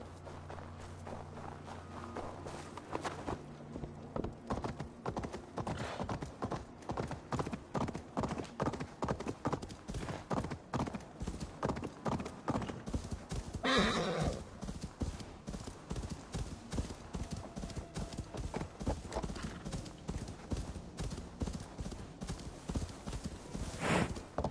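A horse in the video game Assassin's Creed Valhalla clip-clops steadily in a fast, even hoofbeat rhythm, with a brief neigh partway through and game ambience underneath.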